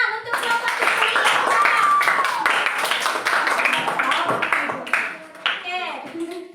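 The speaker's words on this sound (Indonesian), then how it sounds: "Tepuk tangan untuk kelompok tikus." Children applauding in a fifth-grade classroom, a brisk burst of rhythmic clapping mixed with excited voices and chatter throughout.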